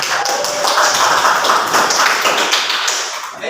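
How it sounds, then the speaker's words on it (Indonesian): Children in a classroom break into steady, dense applause, a loud, continuous patter of many hands clapping together for several seconds. "Tepuk tangan untuk kita semuanya."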